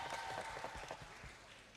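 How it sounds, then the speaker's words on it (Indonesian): Applause from a youth audience at a church Christmas service in Denpasar, a soft, fairly distant patter of many hands that gradually fades. "Tepuk tangan untuk kita semua."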